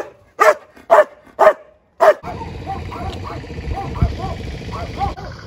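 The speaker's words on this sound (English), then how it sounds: "filming barking dogs" Several sharp dog barks in quick succession, then a steady rumble of motion with faint chatter continuing underneath.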